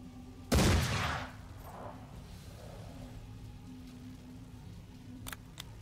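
A single heavy gunshot from the video game Mordheim: City of the Damned bursts out loud and close, trailing off into a decaying rumble, followed by quiet ambience and a couple of faint clicks near the end.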